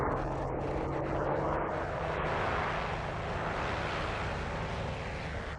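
American Dauntless dive bombers dive with a sustained, droning roar of aircraft engines, a broad steady rumble that holds fairly even and fades slightly at the close.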